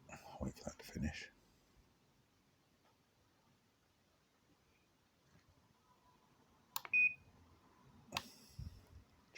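A 1byone wireless doorbell receiver gives short, sharp electronic beeps, one clear tone around the middle followed by another brief burst, faint and isolated against a quiet room after some handling noise.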